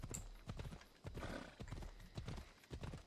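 Horse hooves clip-clopping in a video game, a quiet, steady trotting rhythm of repeated hoof knocks with a brief whinny-like sound near the start.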